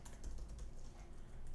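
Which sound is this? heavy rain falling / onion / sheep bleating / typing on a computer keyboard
typing on a computer keyboard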